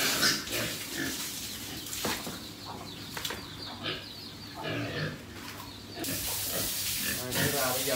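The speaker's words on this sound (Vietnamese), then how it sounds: "Rồi bây giờ mình tắm heo" Pigs on a farm being bathed in their pen around midday, with squeals and grunts mixed with splashing, running water and clattering, fairly loud and continuous throughout.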